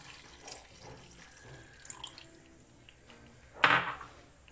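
Thick coconut milk is poured into a cooking pot in a kitchen, a soft liquid trickle with light clinks that ends in one brief, louder splash near the end.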